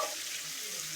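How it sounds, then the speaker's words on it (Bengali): Pangas fish sizzling in hot oil in a pan in a village kitchen, a brief continuous close crackle with faint stirring and no voices. "পাঙ্গাস মাছ ভাজা"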